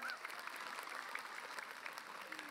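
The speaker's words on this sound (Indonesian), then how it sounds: "Tepuk tangan dulu yuk." Faint, distant applause from an audience at an Islamic religious talk show, a soft continuous patter of clapping with no clear individual claps.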